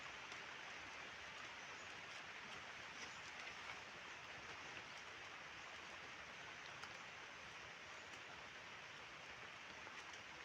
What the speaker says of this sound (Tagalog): Ito sa uwan.